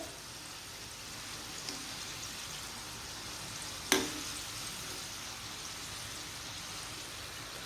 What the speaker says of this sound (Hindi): हमें इस तरह से बहुत ही आराम से अलट पलट कर अपनी गुजियों को मीडियम फ्लेम पे भूनना है